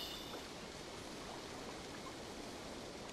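Steady broadband rush of the strong-flowing river Exe in Assassin's Creed Valhalla, a constant even wash of water noise with no breaks, moderately loud and alone.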